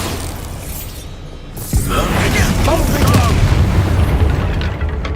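A magical Bombarda explosion spell from the Hogwarts Legacy video game booms once, then rumbling blast and debris effects continue over game background noise.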